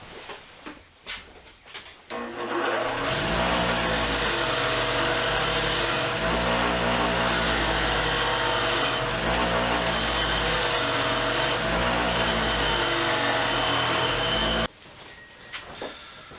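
A bench wire wheel scrubs rust off old alligator wrenches, a loud steady motor hum with a rough brushing rasp that rises and falls as pieces are pressed in, running about twelve seconds before cutting off abruptly.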